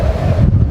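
Strong wind buffeting a camera microphone at a large water jump, a loud, low, rumbling roar for under a second, close and continuous.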